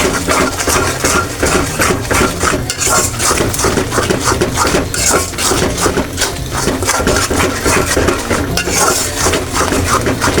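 Coriander leaves sizzle as they fry in a pan under steady stirring, with a spoon scraping and clattering against the metal throughout.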